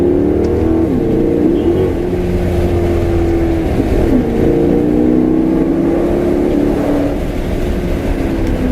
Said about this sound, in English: the downshifts sound amazing